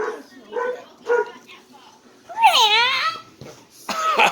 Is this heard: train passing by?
no